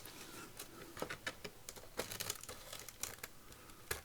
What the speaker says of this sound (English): I don't know why this tissue paper suddenly developed the strength of steel.